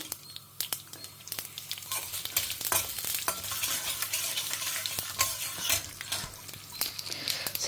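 Mustard seeds, cumin, urad dal and chana dal frying in a pan, with close, crackling sizzles and scattered sharp pops over a low steady hiss.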